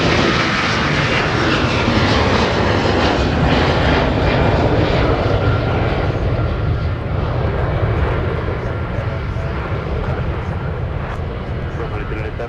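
An airliner landing on the runway at Minneapolis–Saint Paul (MSP) airport, a loud continuous jet engine roar that slowly fades, with steady broadband rumble throughout and no clear talking.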